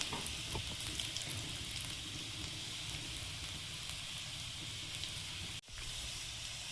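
Potatoes fry with dried red chilli in hot oil, giving a steady, close crackling sizzle throughout that briefly cuts out near the end and then resumes.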